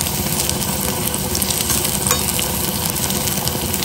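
Ingredients sizzle steadily in a pan over a medium gas flame as they are stirred, a dense continuous frying hiss with light scraping, close and loud, with no voices.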